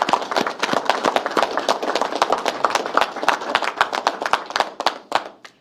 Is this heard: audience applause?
yes